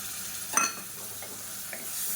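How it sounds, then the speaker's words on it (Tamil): Chicken masala for a Tamil kulambu sizzles in a pan over a medium flame, with a soft stirring scrape near the start and a steady close frying hiss throughout. "இது எல்லாத்தையுமே நல்லா வதக்கிக்கலாம்."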